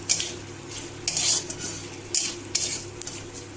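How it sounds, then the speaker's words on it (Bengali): Boiled potatoes fried and stuck to a wok are stirred and scraped with a utensil, giving repeated close metallic scrapes in bursts over a faint sizzle, with no talk. "সিদ্ধ আলু ভাজা করেছি তো, তার জন্য কড়াইতে লেগে লেগে গেছে।"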